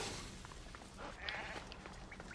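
Goat bleating while under attack from a wolf in the video game Assassin's Creed Odyssey, a few faint, thin bleats over low background ambience.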